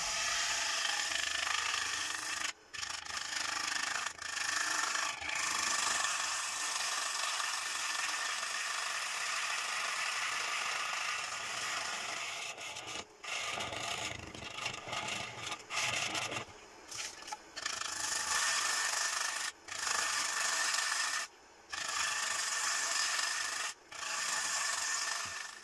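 A wooden bowl spins on a slightly wobbling wood lathe while a bowl gouge cuts into it. The cutting makes a loud, continuous, close scraping hiss, broken by several brief pauses as the tool lifts off the wood.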